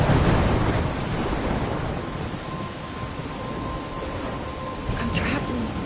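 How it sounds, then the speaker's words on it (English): A thunderstorm in the game Life is Strange: steady heavy rain with a continuous low thunder rumble throughout, loud and enveloping. "I'm trapped in a storm?"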